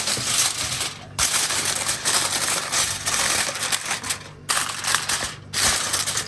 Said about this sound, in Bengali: এই যে এই ফয়েল পেপারটা দিয়ে একদম এভাবে ঢেকে দেব